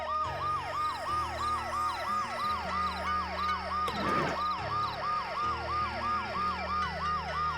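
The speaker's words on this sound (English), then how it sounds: "The noise the ambulance makes will cover the sound of the glass breaking." An ambulance siren in the video game Dead Synchronicity wails in a fast, repeating up-and-down pattern over a low engine hum, loud and steady throughout, with a brief crash-like burst midway.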